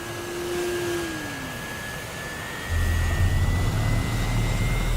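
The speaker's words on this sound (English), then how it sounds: "The engines are gonna make like a honking sound." Jet engines in the DCS flight simulator game give a steady loud roar with a slowly rising whine, then a deeper, louder droning layer joins partway through, with no talking.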